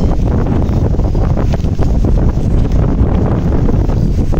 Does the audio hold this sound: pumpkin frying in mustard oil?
no